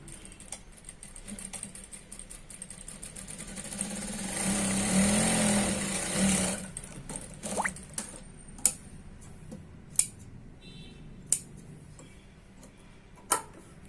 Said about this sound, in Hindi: यहां से फिर से हम सिलाई लगाने के लिए शुरुआत करेंगे